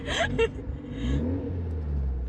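A TVR car engine rumbles low and revs while driving, a steady mid-pitched drone with cabin noise, heard close from inside as voices talk briefly at the start.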